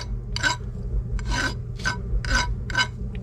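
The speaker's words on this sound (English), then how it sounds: "So I'll go ahead and again use the big file first here." A large metal file rasps across a homemade cement fishing-jig mold in about five firm, evenly spaced strokes, each a close, gritty scrape separated by brief pauses, over a low background hum.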